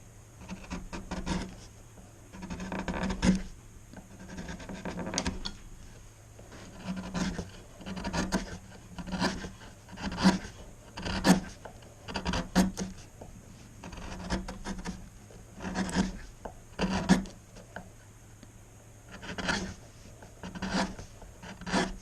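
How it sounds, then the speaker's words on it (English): A spoon gouge scooping out the bowl of a dried wooden spoon, cutting in a steady series of rasping, scraping strokes, close up and alone with no voices. "I use my spoon gouge and I carve the bowl of the spoon"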